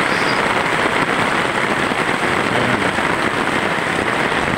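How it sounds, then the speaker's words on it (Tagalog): Heavy rain pours down in Bulan, Sorsogon as a loud, dense, unbroken roar of water hitting surfaces close by, with no pauses and no voices. "bumuhos ng malakas na ulan dito sa Bulan, Sorsogon"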